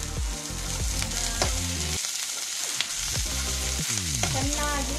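Onions, green chili and capsicum sizzle and fry in a pan for homemade carrot and potato manchurian. A continuous crackling sizzle runs throughout, with stirring and background music playing over it.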